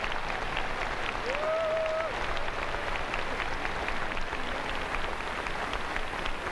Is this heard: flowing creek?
no